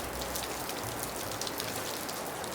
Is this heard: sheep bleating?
no